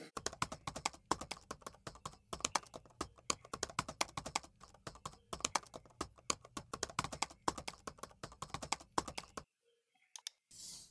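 Computer keyboard typing while writing code, a rapid steady run of close key clicks in bursts with brief pauses, stopping near the end.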